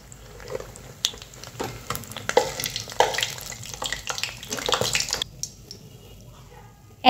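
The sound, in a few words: mustard flower fritters frying in oil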